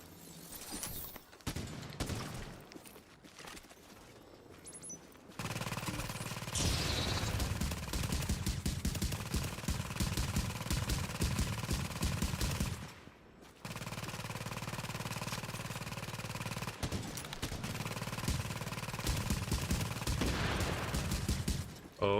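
Heavy gunfire rattles through a firefight in the video game The Division during its Blackout global event, a dense, sustained barrage that stops briefly twice and then carries on loud.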